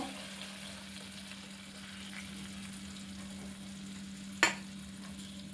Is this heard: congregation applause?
no